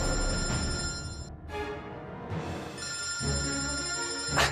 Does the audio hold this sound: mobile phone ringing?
yes